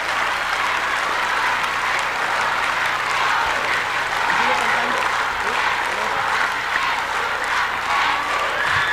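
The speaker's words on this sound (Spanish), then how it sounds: "Un aplauso." A studio audience claps at a televised variety show, a dense, even wash of applause that keeps up at steady strength for several seconds, with a few faint shouts mixed in.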